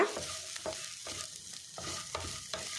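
Cinnamon sticks and star anise fry in a hot pan while a spoon stirs them, giving a run of about six rhythmic scraping strokes over a continuous gentle sizzle.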